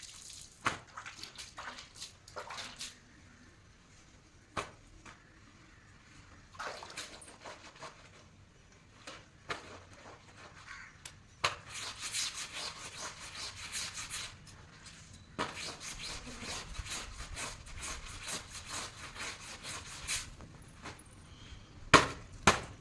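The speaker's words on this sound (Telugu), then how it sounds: "ఈ లోపల అయితే బట్టలు గట్ట ఉదుక్కుంటాను" Clothes are washed by hand at home, with wet rubbing, slapping and splashing water in a steady, close scrubbing rhythm and occasional sharp knocks, louder and busier in the second half.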